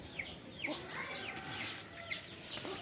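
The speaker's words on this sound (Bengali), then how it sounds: "আমরা একটু মুরগি দেখতেছি, দেশি মুরগি।" Local country chickens cluck close by in a rural yard, repeated short, faint calls over a steady background hum.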